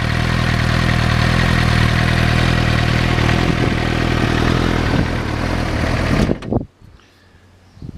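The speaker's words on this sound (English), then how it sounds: "Really nice sounding exhaust." A motorcycle with an aftermarket exhaust idles loudly up close in a steady, throaty burble, then the engine cuts off and only quiet ticking and small sounds remain.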